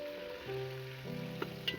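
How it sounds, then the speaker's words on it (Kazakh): Pieces of meat for Kazakh quyrdaq fry in a hot pan until deeply browned, giving a soft, close sizzle with a few small crackles and pops. "Осылай қып-қызыл қылып қуырып алдым."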